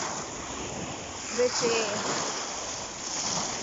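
Gentle waves at a Mediterranean Sea beach wash in as a steady broadband rush with wind, while a person speaks briefly over it.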